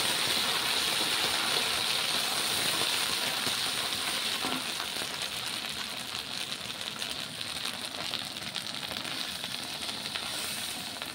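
Ginger paste fries for khichuri in a pan, giving a steady, even sizzling hiss that carries on without a break, fairly loud and close, with no voices.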